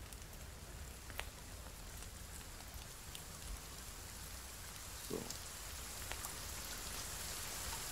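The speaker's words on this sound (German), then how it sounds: "Und wieder der laute Regen." Heavy rain in the video game The Forest pours steadily as a dense, loud hiss throughout, with occasional faint thumps and a brief short sound mixed in.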